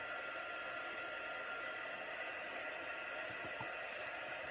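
A heat tool blows steadily over embossing powder on card, producing a continuous faint whooshing hiss with no pauses.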